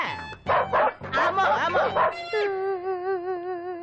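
Several dogs in a film scene give a burst of quick, close barks and yips, then one voice stretches into a long, wavering howl that fades.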